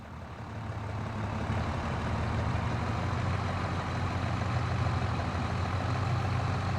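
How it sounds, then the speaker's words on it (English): Tractor engine idling in a farm simulator game, a steady low continuous rumble that holds at an even loudness throughout with no voices over it. "Oh, my poor little tractor."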